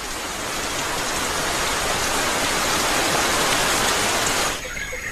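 Steady, dense rain falls in Nyungwe's montane cloud forest in Rwanda, a loud continuous hiss of drops on foliage that drops away abruptly near the end.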